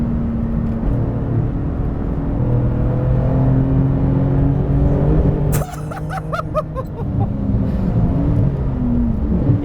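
A 700 HP Porsche 911 GT2 RS MR runs almost flat out on a wet Nordschleife with a loud, sustained engine drone and rising pitch, broken by abrupt gear-change bursts and crackles partway through.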